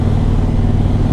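A 2003 Kawasaki Vulcan 1600 V-twin cruiser carries its rider along at a steady pace, giving a continuous low engine drone and hum with no break or voice.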